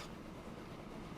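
Trains roll past in the Transport Fever video game, a steady, faint rumbling rail noise with a soft clatter and no talk.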